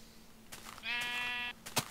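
A single sheep bleats in the video game Minecraft, one drawn-out wavering bleat over faint background tones, with a couple of soft clicks around it.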